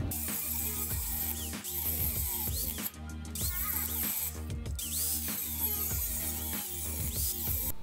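A saw blade cuts through thick aluminum on a Corvette subframe being prepared for a rotary swap, giving a loud, steady grinding, buzzing whine with repeated rhythmic pulses and brief catches, continuous and close throughout.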